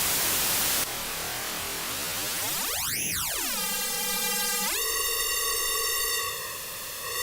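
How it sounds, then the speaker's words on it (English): Synthesized white noise hisses loudly, then a tone sweeps up and down before settling into a buzzy, harmonically rich drone. "Here's our white noise."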